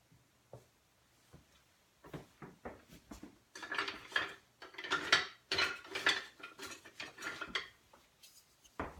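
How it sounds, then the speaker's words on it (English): A spoon stirring flour and oats together in a bowl for chocolate chip cookie dough, heard as a quick series of close scraping and clinking strokes that grow busier and louder. "Just going to give that a quick stir to combine the flour and the oats."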